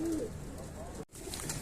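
Pigeons coo softly at a rooftop loft tower, low murmuring calls close by, broken by a brief dropout before resuming.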